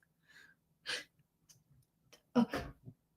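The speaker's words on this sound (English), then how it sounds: "Hold on, I have to sneeze" A single soft sneeze in a quiet room, preceded by a few faint breaths and small vocal sounds.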